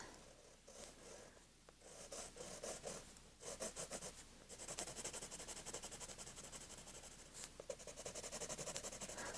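Coloured pencils sketch lightly on paper in soft, quiet scratching strokes that come in short bursts and steadier runs over a faint background hum, with no talking.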